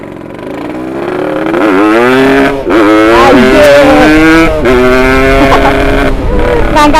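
Yamaha RX Special motorcycle on a test ride, its two-stroke engine loud and close, revving up and down through the gears with rising and falling pitch and brief dips between throttle pulls.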